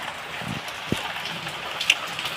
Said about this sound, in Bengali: দেখতে পাচ্ছেন প্রচুর বৃষ্টি হচ্ছে